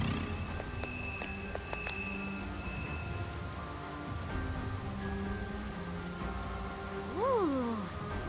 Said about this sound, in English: Is this what they call rain? It just started pouring all of a sudden.